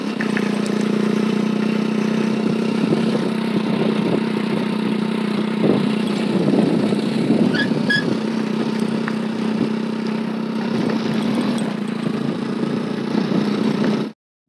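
A motorbike engine idles steadily on a roadside near a temple, a constant low rumble that stays close and unbroken for the whole stretch before cutting off abruptly at the end.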